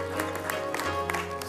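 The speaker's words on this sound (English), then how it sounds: "let's give the Lord a hand clap of praise" A church congregation at a prophetic revival service claps hands together in praise, a dense, steady wash of applause with some music or tones underneath, filling the whole short moment without pause.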